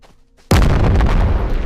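Rocket launcher explosion in the VR game Animal Company, an abrupt loud booming blast after a quiet moment, followed by a dense rumbling roar that stays strong to the end.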